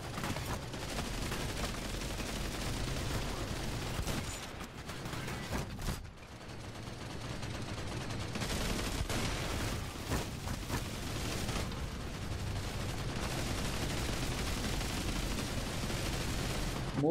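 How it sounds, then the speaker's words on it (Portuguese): Steady, dense gunfire fills a World War Heroes battle, with continuous bursts and crackling shots over a constant rumble, briefly dipping before resuming at similar intensity. "Opa, tem alguém atirando em mim."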